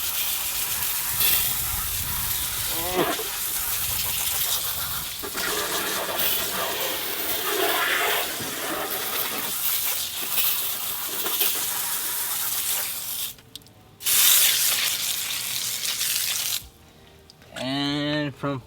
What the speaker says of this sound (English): the water hose will knock off most, let me get it down, most of the